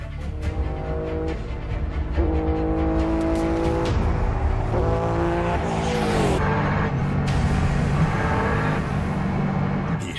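A streamliner motorbike at full throttle on a speed run, its engine roaring loud and steady with rising gear-change sweeps and a harsh, straining tone throughout.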